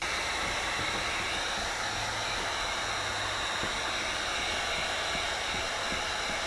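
A heat gun blows a continuous, even hiss of air while window tint is applied to a frameless car window, steady and fairly close throughout with faint handling sounds underneath.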